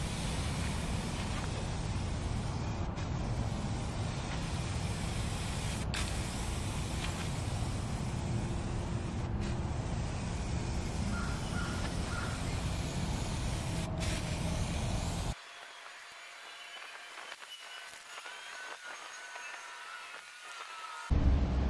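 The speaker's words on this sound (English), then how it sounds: "So we sprayed it with a direct to metal epoxy primer and sealer" Spray gun applying direct-to-metal epoxy primer and sealer to the inside of a trailer tailgate, a steady loud hiss for about fifteen seconds, then a quieter low hum until the end.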